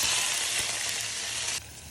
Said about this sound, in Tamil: சட்டியில் எண்ணெயை ஊற்றி தாளிக்க வேண்டியதான். கடுகு போட்டு தாளித்து